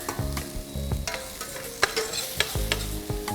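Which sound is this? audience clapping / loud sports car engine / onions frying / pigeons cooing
onions frying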